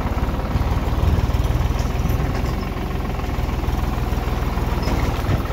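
A New Holland TD465 tractor engine runs in the open, a loud, steady, low mechanical drone with a fast regular throb and no voices over it.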